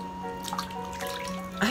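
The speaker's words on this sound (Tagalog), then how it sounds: "So, babanlawan na natin siya ng tubig." Water rinsing soap off in a sink, trickling and splashing in short bursts with a brief louder splash near the end, over a steady low hum.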